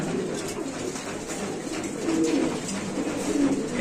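Pigeons coo at a pigeon seller's in a continuous murmur of low, throaty calls, several birds overlapping close by and swelling slightly louder toward the end, with no speech.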